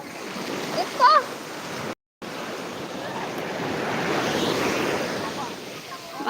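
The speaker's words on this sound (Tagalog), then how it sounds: "Maalon." Rough sea surf rolls onto a shore, with a steady rumbling wash and gusts of wind buffeting the microphone. A brief dropout breaks the sound partway through, and the surf swells louder toward the end.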